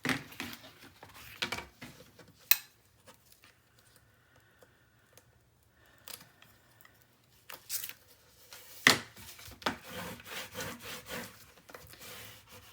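Paper is burnished while a mini album is being made, giving faint, scattered rubbing strokes with occasional light taps and ticks between quiet pauses.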